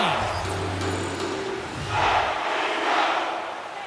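Arena crowd noise from an NHL 24 video game hockey match between the New York Islanders and Los Angeles Kings, a steady roar with two swelling surges of cheering, alone without talk.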